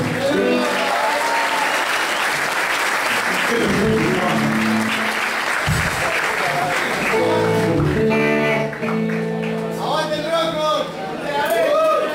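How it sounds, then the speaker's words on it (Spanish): Dense, steady applause from a live rock concert audience with scattered whoops and voices, filling the space continuously before a band's next song, with a few musical tones rising near the end. "Un aplauso para el que consiguieron el equipo."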